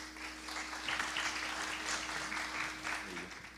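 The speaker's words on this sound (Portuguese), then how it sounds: "Recebe os nossos aplausos." Audience applause welcoming a guest speaker at a talk on social seals in cities, steady clapping filling the room throughout at moderate distance.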